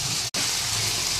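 Tomato and ginger-garlic paste fry in a hot pan with a steady, close sizzle that briefly cuts out near the start and then continues evenly.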